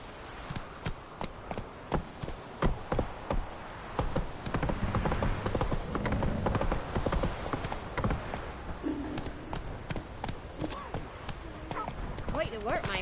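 Roach, a horse in The Witcher 3 video game, trotting with steady, evenly spaced hoof clip-clops, fairly faint, under a busier stretch of game ambience.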